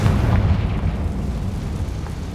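Bombarda and Confringo spells going off in Hogwarts Legacy, a continuous loud, deep, rumbling explosive roar with no speech.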